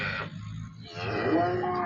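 Cow lowing on a farm, a single drawn-out moo heard fairly close and at moderate volume, rising in pitch toward the end, with no talking.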